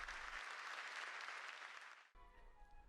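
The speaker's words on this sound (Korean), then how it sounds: "관객들은 박수로 화답합니다." Loud applause from a concert audience after a clarinet soloist and orchestra play a Porgy and Bess suite, with dense steady clapping for about two seconds before it thins into scattered claps.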